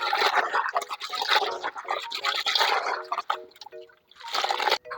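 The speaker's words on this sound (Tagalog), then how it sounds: "Dito na natin hugasan dito sa may strainer mga idol." Snails are rinsed in water in a strainer for Filipino ginataang kuhol, with splashing, trickling and shell rattle in bursts that briefly pause before resuming close up.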